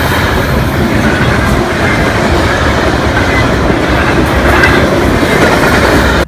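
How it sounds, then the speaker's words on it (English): A train rumbles past on a rural railway in Nebraska or Colorado, a loud, steady roar of wheels and cars with faint clickety-clack and occasional squeal throughout. "there was a train."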